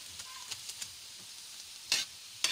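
Onion and garlic sautéing in a pan for papaya lumpia, cooked without gas: a faint, steady sizzle with a few soft stirring scrapes and two brighter bursts near the end.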